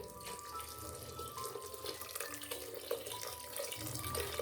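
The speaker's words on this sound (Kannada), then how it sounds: "ನೀರನ್ನು ಹಾಕೋತಾ ಇದ್ದೀನಿ" Water pours steadily into a pot of spinach, sambar powder and toor dal for palak sambar, with a faint splashing gurgle, quiet and close, no voices.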